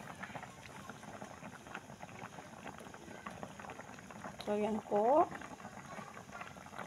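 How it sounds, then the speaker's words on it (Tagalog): Soft, steady bubbling of a pot of bulanglang vegetable stew simmering, with a brief voice speaking near the end. "Kumukulo na po siya."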